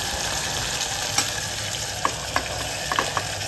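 Green lilva (hyacinth) beans hit hot oil tempering, giving a soft, steady sizzle with a few small crackling pops near the end.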